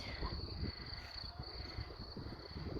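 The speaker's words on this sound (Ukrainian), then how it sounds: "Цвіркуни цвірчать." Crickets chirp steadily in a high, continuous trill, faint and outdoors, with no one speaking.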